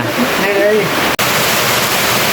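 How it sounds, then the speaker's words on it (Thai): Rain falls steadily at night outdoors, a dense continuous hiss, with people talking faintly under it. "ตอนนี้ก็ฝนตกอยู่"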